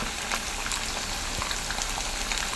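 Mango pickle ingredients fry in hot oil in a pan, a steady crackling sizzle with scattered pops, fairly close and moderately loud, continuing evenly with no one speaking.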